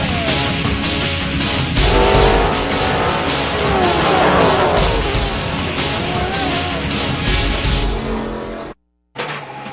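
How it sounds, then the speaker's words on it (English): Grand-Am race cars run at Watkins Glen during the 2011 Canadian Tire 200, their loud engine roar rising and falling in pitch as cars pass, with a brief dropout near the end. "The cars are running well."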